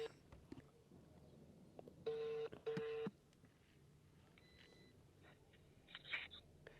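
Telephone call tones on a line: a few short beeps, then two loud, steady ringing or busy-tone bursts with a brief gap between them, followed by fainter beeps, heard over a low, quiet background hum.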